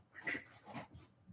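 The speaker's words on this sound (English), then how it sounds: "My brother-in-law is trying to help us get the dogs out for their potty break." Dogs being let out for a potty break give a few short whimpering yips in quick succession, fairly faint and close by.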